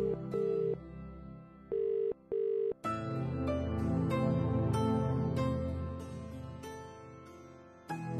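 A phone ringing tone sounds in a few short repeated pulses, then a loud, continuous stretch of music takes over.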